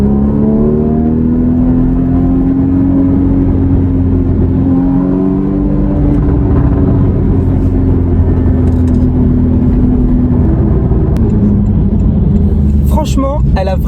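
A Porsche Cayman GTS 981 sports car on the move, its engine holding a loud, sustained tone that rises gradually and then eases, heard up close from inside the cabin with a voice talking over it.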